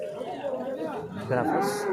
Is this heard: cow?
yes